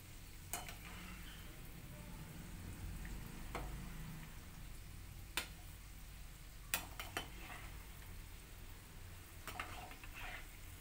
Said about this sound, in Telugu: ఇలా నెమ్మదిగానే కలర్ చేంజ్ అయ్యే వరకు ఫ్రై చేసుకుంటూ ఉండాలి.